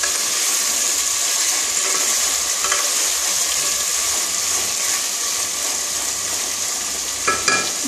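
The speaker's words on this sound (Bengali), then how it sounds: "বেশ উল্টিয়ে পাল্টিয়ে ভালো করে চিকেনটাকে কষিয়ে নিতে হবে।" Chicken stir-fried and turned in a pan for tehari gives off a loud, continuous sizzle close up, with occasional scrapes and clacks of the spatula.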